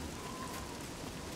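Steady rain falls in the Scum survival video game, a continuous even hiss that fills the short moment without pause.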